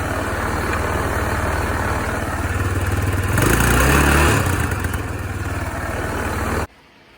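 A Tao Tao Bull 200 ATV's small GY6 engine idles steadily nearby, a dense rumbling putter that swells briefly, then cuts off abruptly near the end.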